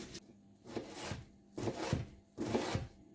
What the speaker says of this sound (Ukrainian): беру одну велику цибулину, яку нам потрібно нарізати дрібним кубиком